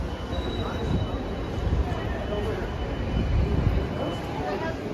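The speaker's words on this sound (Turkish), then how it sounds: "Tren istasyonunun içi." Busy indoor train station in Rotterdam, with steady rumbling train and rail noise, occasional faint wheel squeal, and murmuring voices throughout.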